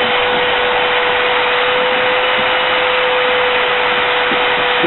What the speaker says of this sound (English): I just take my sandpaper and keep it, or my sander, and keep it flat and go along this edge.